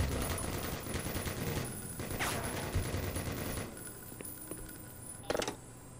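An automated turret in the game Black Mesa fires rapid bursts of machine-gun rounds, dense and fairly loud at first, then thinning into scattered shots with a couple of sharp final cracks.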